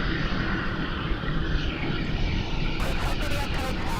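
Airliner jet engines spooling up at Melbourne Airport, a steady broad roar heard from a distance that stays constant throughout, with faint voices in the background.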